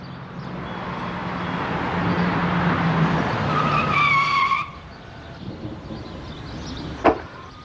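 Motorbike arriving and braking: a rising engine roar with a squealing skid that cuts off abruptly, then quieter idling and a sharp clunk near the end.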